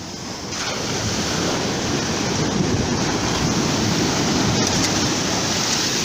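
Ocean waves crash steadily onto the edge of a beach, a loud continuous surf roar with wind buffeting the microphone throughout and no voices.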